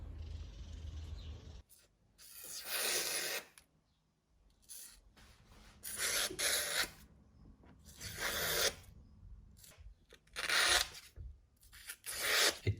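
Repeated rasping, scraping strokes in short bursts with quiet pauses between, close up, as a Cold Steel 4 Max Scout knife's thick blade shaves into wood.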